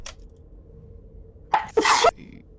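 A single sharp human sneeze bursts out close and loud after a brief inhaled build-up, cutting through a quiet room with low background hum during a tabletop role-playing game session.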